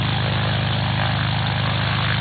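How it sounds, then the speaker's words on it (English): A tow plane's engine and propeller idle steadily on the ground before takeoff, a loud, constant droning roar close by with no talking. "we've got the plane running and ready."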